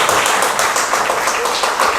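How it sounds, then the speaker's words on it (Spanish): Audience applause at a church service, dense and steady clapping sustained at full volume throughout, with no voices standing out above it. "Un aplauso para"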